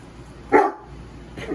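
A single sharp dog bark rings out once, close and loud, then a faint follow-up sound near the end over a quiet workshop background.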